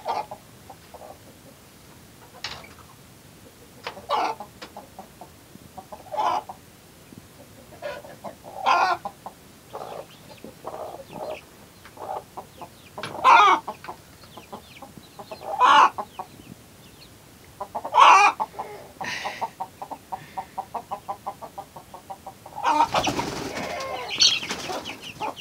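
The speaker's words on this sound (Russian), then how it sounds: "Ох и куры, ох и куры." Hens and chicks cluck and cheep in short irregular bursts, some louder calls standing out against a quiet background, with a brief rustle of flapping wings near the end.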